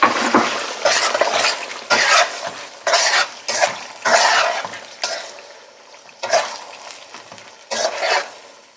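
Egusi stew with cooked-down tomatoes and basil in a pot, stirred in repeated loud scraping strokes over a soft sizzle, close up with short pauses between strokes.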